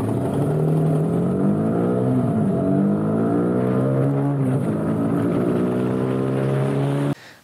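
A Zontes 155 G1 Scrambler motorcycle engine pulls hard under load, a steady droning whine that climbs and shifts pitch in stretches before cutting off abruptly near the end.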